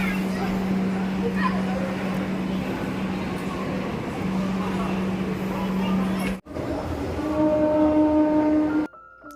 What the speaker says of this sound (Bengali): মেট্রোর একটা সুবিধা আছে, ঘন ঘন ট্রেন, তাই আমাদেরকে খুব বেশি ওয়েট করতে হলো না, ট্রেন সাথে সাথেই চলে আসলো।